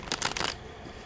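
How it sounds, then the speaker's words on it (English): Quick riffling of a deck of oracle cards being shuffled, a short burst of papery flicks up close, then it stops. "I meditate and pre-shuffle the cards"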